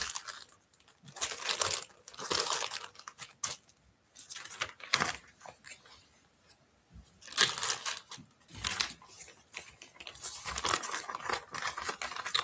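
A plastic bag crinkles and crunches in short, irregular bursts with quiet gaps between them, fairly faint and close by, as Warhammer 40K model parts are packed into it.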